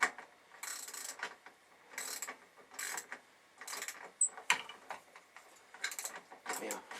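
Hand tool ratcheting as 14mm bolts are snugged down on the fender of a 2002 Triumph Bonneville in a garage, in repeated short bursts of clicking with brief pauses between strokes, close and moderately loud.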